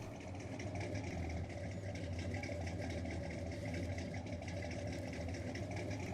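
A truck engine labours hard climbing a steep hill in Farming Simulator 19 while hauling a Massey tractor, a steady loud drone running unbroken throughout with no talk.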